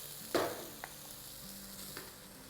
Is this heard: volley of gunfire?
no